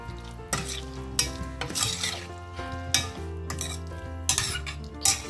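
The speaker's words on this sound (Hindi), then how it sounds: "इसमें हम थोड़ा सा और चला देंगे और थोड़ा पका लेंगे हम इसको" Spiced vegetables for Tahidi pulao being stirred and fried in a pan, with repeated scraping and clinking of a metal spoon over a steady sizzle, close and fairly loud, no voices.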